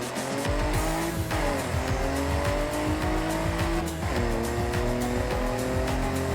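A slow D-class race car in Forza Horizon 6 drives a timed lap, its engine droning steadily with shifting pitch as it accelerates and changes gear, tires squealing and skidding through corners, loud and continuous throughout.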